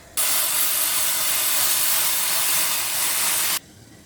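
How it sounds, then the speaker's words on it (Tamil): Water heats in a hot pan for cooking rice, giving a loud, steady hiss that starts abruptly, holds for about three seconds and cuts off sharply. "இப்போ நான் பேனை ஹீட் பண்ணி இப்போ தண்ணி கொதிக்க வச்சுருக்கிறேன்."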